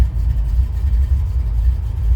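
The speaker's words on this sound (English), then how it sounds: "that's how this car starts every time I've been in it. and it sounds nice. Got a little cam to it, again, that ZZ4 popular crate engine" A 1971 Chevrolet Nova with a ZZ4 crate engine and a mild cam idles nearby in a low, steady rumble with a slightly lumpy pulse, heard alone.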